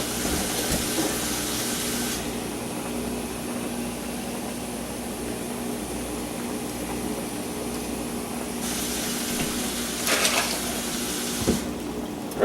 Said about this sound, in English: so I have to add more fucking water.